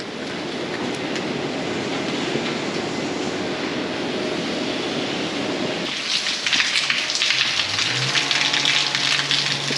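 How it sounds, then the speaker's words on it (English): Steady rain hisses throughout, with a denser, brighter patter in the last few seconds and a low rumble underneath. "It's crazy, it's raining again."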